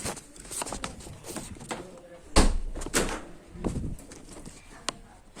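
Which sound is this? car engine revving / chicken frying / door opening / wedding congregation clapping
door opening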